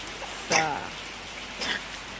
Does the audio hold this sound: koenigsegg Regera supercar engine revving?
no